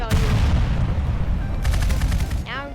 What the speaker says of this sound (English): Please stop the gunshots.